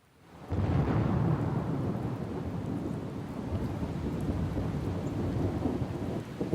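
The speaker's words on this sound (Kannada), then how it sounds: "ಬೆಂಗಳೂರು ಸೇರಿ ರಾಜ್ಯದ ಹಲವೆಡೆ ಮಳೆರಾಯನ ಸಿಂಚನವಾಗಿದೆ" Steady heavy rainfall pours down during a storm in Karnataka, with a deep rumble of thunder rolling in at the start and the dense hiss of rain continuing loudly throughout.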